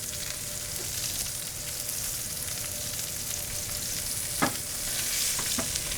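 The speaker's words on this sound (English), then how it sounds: "you're searing it correctly to get a nice crust" A steak searing on unchanged high heat in a hot pan to build a crust: a loud, continuous, close-up sizzle and crackle throughout, with a couple of brief sharp pops near the end.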